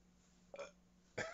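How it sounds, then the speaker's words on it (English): A man gives two short burps about half a second apart after drinking a milk stout beer. Both are close and clear against a quiet background, and the second is louder. "I can make myself burp."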